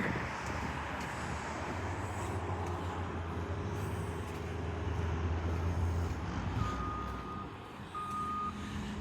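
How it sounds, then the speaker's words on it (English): Distant rumble of a truck idling in San Francisco with a reversing alarm beeping faintly and steadily in the background. "It'd be nice if that truck wasn't backing up all the time and beeping."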